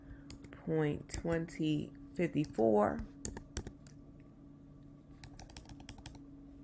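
Numbers are typed on a computer keyboard into a spreadsheet cell: a person speaks briefly, then sharp key clicks come in a loose run of quick, close taps at moderate volume.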